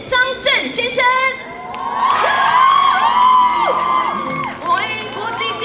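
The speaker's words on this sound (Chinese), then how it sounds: "我们也是要用最大的掌声加尖叫欢迎张震先生" At a film premiere, an audience welcoming the actor Chang Chen bursts into loud, shrill, high-pitched screaming and cheering, with several voices whooping over a continuous crowd roar.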